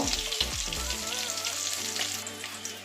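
Fish roe from a fish head frying in oil until reddish, a steady close sizzle and crackle with faint stirring noises and no speech.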